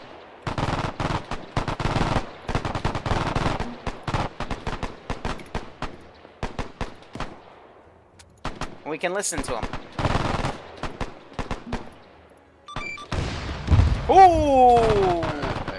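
Machine gun fire in the Arma 3 video game, set in a WWII Market Garden scenario: bursts of automatic gunfire crackle in rapid clusters, mixed with a voice talking over parts of it and a few sharper tonal effects near the end.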